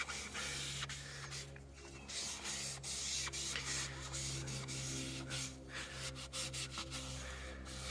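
LeatherLock Pro coating rubbed onto BMW X7 leather panels in large sweeping motions, a steady close scuffing friction with a faint low hum beneath, no voices.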